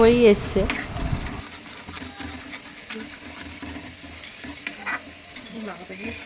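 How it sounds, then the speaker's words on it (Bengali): Food frying in a pan in a home kitchen, a low sizzle with scattered stirring clinks, opening with a brief burst of voices and clatter before settling into quieter cooking noise. "সুজিটা বানানো হচ্ছে এখানে পাশে আর আমি তার পাশে ভাজছি"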